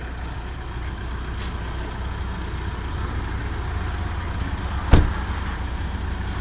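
A motor vehicle rolls along slowly with a steady low engine hum, moderately close, and a single sharp knock or clunk near the end; no talking.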